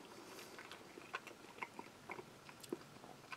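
Close, quiet chewing of British Army single-meal ration sweet and sour chicken with pineapple, with soft irregular bites and crunchy clicks over a low background.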